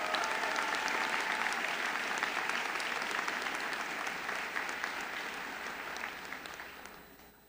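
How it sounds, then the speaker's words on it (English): A large crowd applauds at a 2025 Joliet Junior College commencement ceremony, with dense, sustained clapping that gradually fades toward the end. "Let's give them a round of applause."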